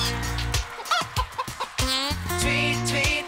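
Chickens cluck in a series of short clucks and squawks amid a bouncy children's song, with a rooster also present; the bird calls stand out clearly over the backing music.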